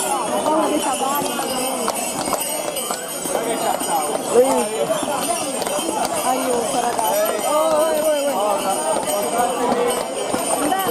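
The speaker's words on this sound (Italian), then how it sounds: "Ho paura dei cavalli." Horses' hooves clip-clop on a street during a traditional Selargius wedding procession in Sardinia, a steady clatter under continuous crowd chatter and a shouting voice.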